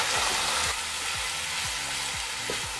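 Berkoukes pasta with turmeric and a splash of olive oil being stirred in a hot pot: a continuous close sizzle with several rhythmic scraping strokes of the spoon, no voices.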